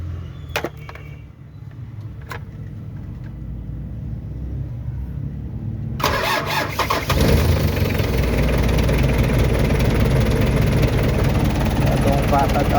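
A cold Mitsubishi 4D56 diesel with a repaired starter that had been cranking weakly sits quietly for a few seconds, then cranks and fires at once into a loud, steady, close running clatter.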